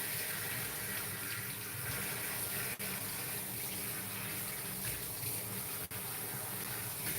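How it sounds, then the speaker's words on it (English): Lukewarm water runs steadily from a tap, rinsing shampoo out of natural 4c-textured hair, as a loud, continuous gushing stream close by with two brief dips. "when you're rinsing, same thing, lukewarm. When you're rinsing your shampoo."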